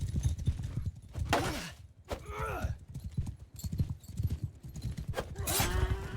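Horse hooves clip-clop at a gallop while riding in the Mount & Blade II: Bannerlord video game, with a neigh or whinny and someone talking over the steady hoofbeats.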